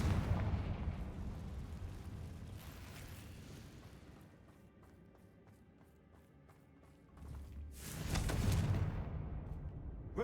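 Confringo fire spell blasts in the game Hogwarts Legacy erupt as heavy booming explosions with crackling rumble, one at the start fading over several seconds and another loud burst later on.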